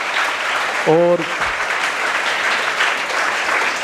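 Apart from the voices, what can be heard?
audience applause for Divya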